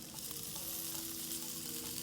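Steady, close sizzling of food frying in a pan, a continuous crackling hiss with a faint low hum underneath.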